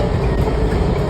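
A Washington Metro train speeding through a tunnel, a steady close rumble with rail noise throughout.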